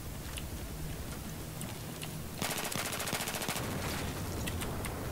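Sustained automatic gunfire in the game Titan Squad, a rapid, evenly paced burst of rounds starting midway and cutting through a constant noisy battle backdrop.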